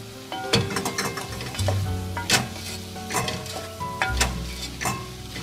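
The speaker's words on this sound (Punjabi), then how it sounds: "ਹੁਣ ਆਪਾਂ ਇਸ ਵਿੱਚ ਪਾਵਾਂਗੇ ਆਲੂ" Potatoes hit hot ghee tempering in a pan for aloo gobi, setting off a loud, steady sizzle with repeated sharp clinks and scrapes of a spoon stirring against the metal.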